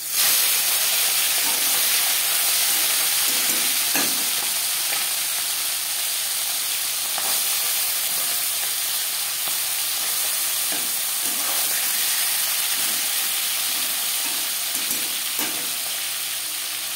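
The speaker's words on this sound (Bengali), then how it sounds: "এবার দিয়ে দেব ম্যারিনেট করে রাখা ট্যাংরা মাছ।" Marinated tangra fish fry in five spoons of hot mustard oil, a loud, steady hissing sizzle that runs unbroken for the whole stretch with occasional faint clatter.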